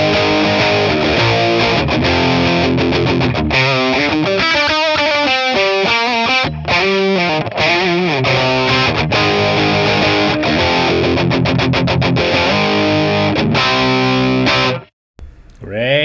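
An electric guitar plays a lead tone through a Matchless Laurel Canyon ToneX capture. It is loud and distorted, with sustained notes and runs played continuously, then stops abruptly near the end.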